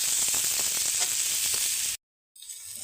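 Okra fries in an uncovered pan with a loud, dense sizzle for about two seconds, then cuts out abruptly before a fainter sizzle returns.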